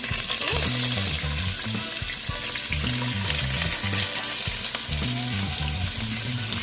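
Peppers, garlic and onions frying in a pot give a loud, steady sizzle throughout, with rhythmic stirring and clanking against the pot on top, with no talking.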